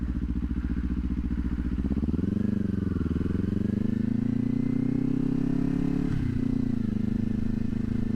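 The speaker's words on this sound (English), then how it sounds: "That was probably my best upshift yet." A motorcycle accelerates loudly and up close, engine revving steadily before a brief dip in pitch at an upshift and then pulling hard again, with no talk over it.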